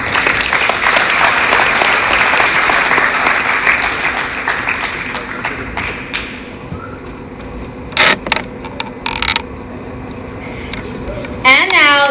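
A crowd claps steadily and loudly for a Dust Devils baseball player at a signing ceremony. The applause thins out partway through, leaving scattered claps, some talk and a few sharp bursts near the end.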